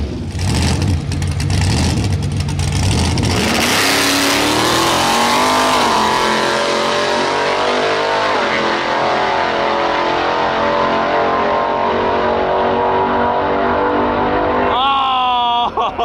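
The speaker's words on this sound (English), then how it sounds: "Wow, his burnouts are looking way better." A drag race car does a burnout at a drag racing event, its engine screaming loud and close with rising, sustained revs and tire roar, then easing off. Voices come through faintly near the end.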